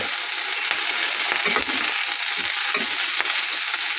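Eggs with purslane fry in a pan while being stirred, a steady close sizzle broken by soft scraping and tapping of the utensil, with no voices.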